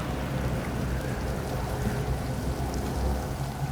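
Steady rain in the survival game Stranded Deep, a continuous broadband wash of falling water with low rumbling underneath, evenly loud and unbroken throughout.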